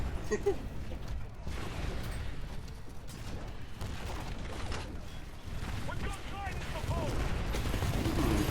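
Rapid gunfire in the video game Titanfall crackles continuously over a dense, noisy mix of blasts and effects, loud and sustained throughout.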